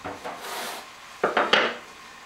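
A few hollow wooden knocks and scrapes as a board is put down on a counter, close by, with no talking.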